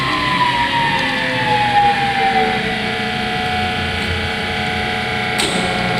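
A machine spindle starts up on a hydraulic, push-button operated machine, giving a loud close whine that slides steadily in pitch as it spins up over a dense mechanical hum, ending with a brief click.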